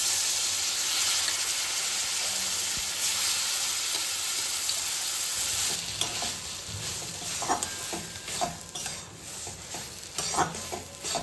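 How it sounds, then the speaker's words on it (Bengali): Mashed papaya goes into a pan of fried mustard seeds and is stirred, giving a steady close sizzle that turns into scraping and clattering stirring strokes partway through, with no one talking. "এবারে আমি যে পেঁপেটা চটকে রেখেছিলাম সেই পেঁপেটা দিয়ে দিই।"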